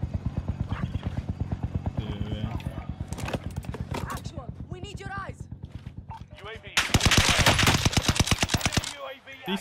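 A buffed and upgraded STEN submachine gun rattles in a video game with steady, rapid automatic fire under ongoing talk, closing in a louder, denser burst near the end.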